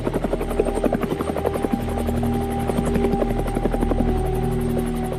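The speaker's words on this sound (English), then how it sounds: "there are days when Minusca attack helicopters are tasked to conduct tactical offensive" A United Nations MINUSCA attack helicopter flying nearby in the Central African Republic, its rotor thumping in a fast steady beat over a loud engine whine and droning hum.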